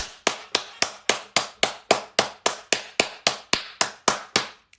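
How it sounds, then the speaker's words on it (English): One person claps fifteen times in a steady, evenly spaced rhythm, each clap sharp and close, during a TikTok live stream. "Everybody clap."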